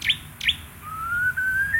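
A tame murai songbird called Meong, wearing a B16 leg ring, gives two sharp chirps followed by a long rising whistled note, close and clear over a quiet background.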